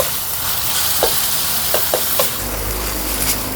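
Sour tomatoes and pork dry-roast in a pan for Thai nam prik ong, giving a loud, continuous close-up sizzle with scattered sharp crackles and scraping stirs, with no talking.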